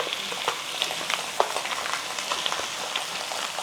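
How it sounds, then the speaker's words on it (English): Chicken thighs fry skin side down in a pan while preparing Greek food, giving a steady close sizzle with scattered crackles and pops throughout. "So that's frying away."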